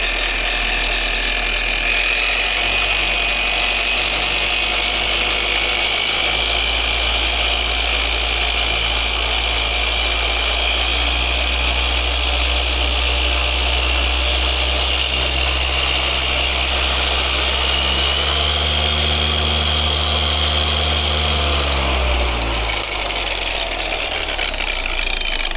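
A DIY Detail corded 25 mm detail polisher runs steadily and loudly for the whole stretch, a constant motor whine with a brief dip and rise in speed near the end, and no one speaks.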